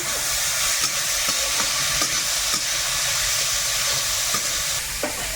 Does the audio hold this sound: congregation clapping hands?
no